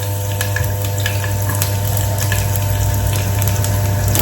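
Chopped garlic frying in hot oil in a kitchen pan, a continuous bright crackling sizzle over a steady low hum, with scattered sharper pops and no talking.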